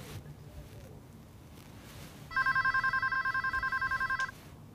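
A telephone rings in a clean repeating electronic trill lasting about two seconds, loud and close over a quiet room background with no talking.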